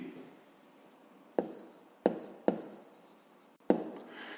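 A pen writes on paper while working a fifth-grade math exercise: a quiet run of close scratchy strokes with several sharper onsets as new marks begin, with no talk.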